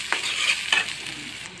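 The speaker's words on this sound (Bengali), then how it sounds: "আমি এখানে সয়াবিন তেল দিচ্ছি, দিয়ে আমি এখানে 1 বাটি করে পেঁয়াজ কুচা দিয়ে দিব" Chopped onions fry in hot soybean oil in a home kitchen, a steady sizzle broken by two sharp scraping stirs near the start, with a quieter frying hiss carrying on afterward.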